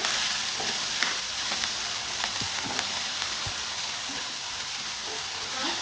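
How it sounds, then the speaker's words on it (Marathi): Thecha chilli paste sizzles in hot oil in a pan while a kachori masala is being prepared, a continuous close crackling fry with scattered pops and light stirring scrapes, and no voices. "पॅन मध्ये तेल टाकलं, तेल गरम झालं की आपण याच्यामध्ये ठेचा टाकत आहोत"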